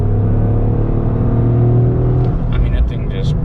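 A 2025 Toyota GR Corolla automatic pulling hard in fourth gear around 50 mph, a loud, steady engine drone and road rumble from inside the cabin, with someone talking over it.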